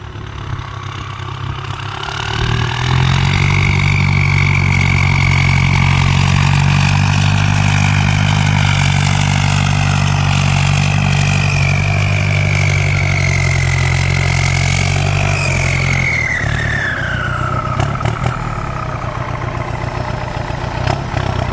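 A Ford 5000 turbo tractor engine runs in first gear, a loud, close, steady diesel drone that rises after a couple of seconds and holds for a long stretch with a whining tone above it, then eases and settles near the end.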